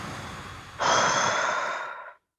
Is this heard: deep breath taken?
yes